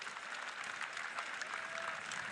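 A college baseball crowd between Alabama and Oklahoma applauds as the pitcher leaves the game, a soft, distant, steady patter of clapping across the stands for a couple of seconds.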